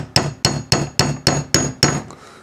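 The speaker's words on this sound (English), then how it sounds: "hold this little pin hammer in place on top of the actual button itself, and you can actually just lightly tap it" A small pin hammer taps lightly on a metal jacket button to set it, seven sharp, evenly spaced clinks, close and alone with no talking.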